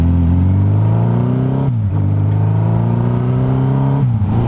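A car pulls away from a stop with a loud, close engine note that climbs in pitch through two gear changes, each marked by a brief dip before the revs rise again.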